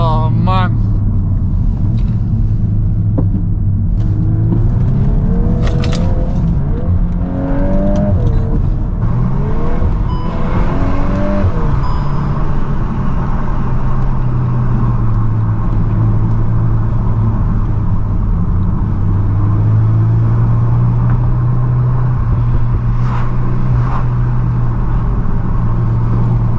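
A VW MK8 Golf R drifting on wet roads, heard from inside the cabin as a loud steady engine drone with artificial sound, with rising and falling revs and someone talking over it.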